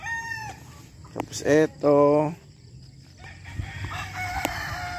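A bulik gamecock rooster crows on a gamefowl farm, one loud close crow followed by a cluck and another bird's call in the background, with someone speaking briefly.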